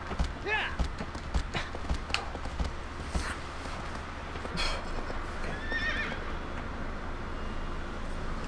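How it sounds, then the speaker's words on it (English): In the video game Shadow of the Colossus, a horse whinnies a few times over a steady background of galloping hoofbeats and rumbling game ambience, with a voice talking faintly underneath. "Look at my horse."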